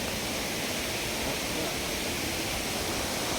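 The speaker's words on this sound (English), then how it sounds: "You can see the waterfall." Broad, steady roar of falling water from a waterfall by the Mau Mau cave in Embu, Kenya, a continuous dense hiss filling the scene with no voices over it.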